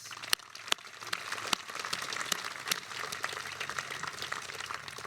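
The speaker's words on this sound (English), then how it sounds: "Give a round of applause to the teachers and coaches who nurtured you, instructed you, stimulated you, and inspired you" A commencement audience applauds its teachers and coaches, a steady, moderately distant patter of many hands with a few sharper claps standing out and no voices.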